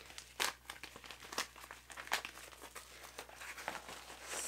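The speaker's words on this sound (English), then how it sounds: "right now I've got a package from Sticker Mule to open up my newest stickers" A Sticker Mule sticker package is opened by hand, giving close, quiet crinkling and tearing of packaging in irregular bursts with no talking.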